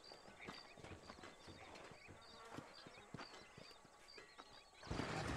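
Horse hooves in Red Dead Redemption clip-clop in a quick trotting rhythm over a buzzing, insect-filled outdoor ambience, with a louder rustle at the end.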